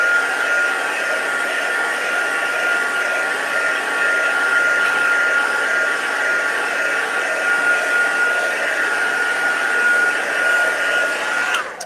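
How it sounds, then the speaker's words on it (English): A heat gun blows a steady, loud, continuous whoosh to dry a rice paper craft project, running unbroken for about twelve seconds with no talking. "Next stage, just give that a quick heat dry"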